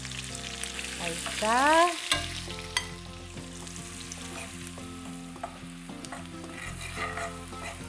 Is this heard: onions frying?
yes